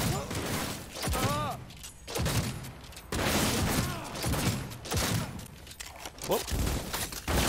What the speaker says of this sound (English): I love the way it reloads, man